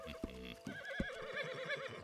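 A horse whinnies in the western game Red Dead Redemption 2 Online, a long quavering neigh that rises and wavers, close and fairly quiet, with brief thuds at the start and faint talk in the background.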